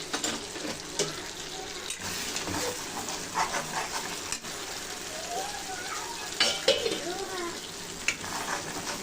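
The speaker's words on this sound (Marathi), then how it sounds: "आता आपलं वाटण चांगलं फ्राय झालं आहे." Ground spice paste frying in a pan, a faint sizzle with intermittent stirring and scraping clatter, close but quiet, with some watery splashing sounds mixed in.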